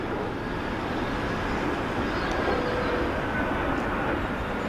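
An aircraft at Heathrow Airport going around, a steady broad roar of jet engines heard from a distance that holds at an even level throughout.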